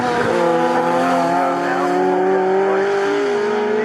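Racing cars pass at Snetterton circuit during an MG Car Club Cockshoot Cup race. A continuous loud engine roar rises and falls in pitch as the cars sweep by, with a brief squealing edge and no talking.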